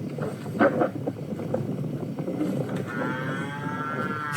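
Cows moo on a farm as a breeding bull enters among them, a loud low call rising early and then fading under steady outdoor background noise.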